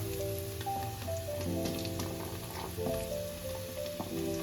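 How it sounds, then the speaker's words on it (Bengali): Onions frying in a pan for a home-cooked chicken stew, giving a steady soft sizzle and crackle throughout, with faint kitchen clinks and background tones. "পেঁয়াজটাকে হালকা ফ্রাই করে নেব।"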